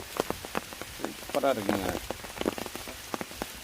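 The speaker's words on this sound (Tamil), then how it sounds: "தொட்டியில் வேற தண்ணி, மழை தண்ணி விழுந்துக்கிட்டு இருக்கு" Rainwater from a cyclone downpour falls steadily into a water tank outdoors, a continuous patter with sharp drips, while a person speaks briefly over it.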